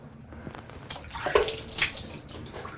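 Water splashing and running as a shower enclosure is rinsed down, uneven gushes and spatter close by with no talking.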